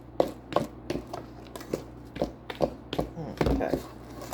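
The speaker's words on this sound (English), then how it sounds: "Okay, we're going to mix this together." Brownie batter being stirred by hand in a bowl: a run of irregular knocks and taps from the spoon against the bowl, close and fairly quiet, with soft thumps between them.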